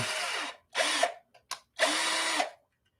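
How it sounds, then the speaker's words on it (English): A power drill bores through a 3D printed part on an Ender 3 Chimera build, three loud whirring bursts with a short blip between them, then the motor stops and the clip goes quiet. "then from then you drill all the way through"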